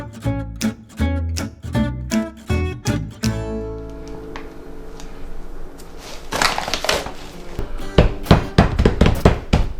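Knife chopping parsley on a cutting board while making Southern-style flat dumplings, with a quick run of sharp, evenly spaced chops at first, then louder, denser bursts of chopping later, close and with no talking.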